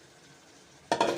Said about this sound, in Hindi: ये हमने सब्ज़ मिर्च और पुदीना रखा हुआ था काट के, तो ये हम इसमें डाल देंगे।